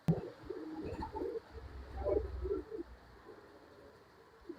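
Pigeons for sale in Bangalore coo softly in a low, throaty, repeated rhythm, several close burrs rising and falling over a faint background hiss, with no talking.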